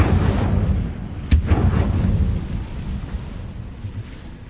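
Hogwarts Legacy's Incendio fire spell is cast: a single sharp crack flares up, then a whooshing burst of flame decays into a low rumbling roar.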